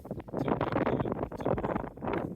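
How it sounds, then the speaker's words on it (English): Wind gusting across an outdoor microphone in Kenya, loud buffeting rumble swelling and easing in waves throughout, dominating everything. "getting kind of windy here"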